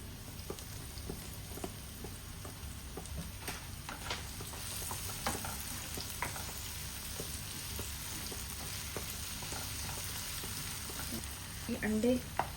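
Green chilies sizzle in hot oil in a frying pan while traditional khagina scrambled eggs are being made, a steady close crackle with light stirring scrapes and a few louder clatters near the end.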